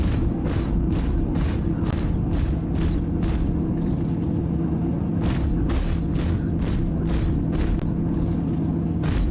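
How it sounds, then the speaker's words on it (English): Rapid M cannon laser fire from a ship in the space game Star Citizen: two volleys of sharp, evenly spaced blasts, each about seven or eight shots, over a loud, constant low engine rumble. "That rear shield's coming down pretty quick with those M cannons."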